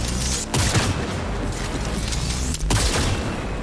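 Tech weapons fire in Cyberpunk 2077, letting off dense, loud bursts of shots that crowd together and briefly break off before another heavy volley.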